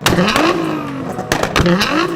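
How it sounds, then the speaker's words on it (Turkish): A revving car engine is punctuated by a few sharp, loud exhaust pops and crackles, close by. "Egzozdan gelen o ani patlama seslerini mutlaka duymuşsunuzdur."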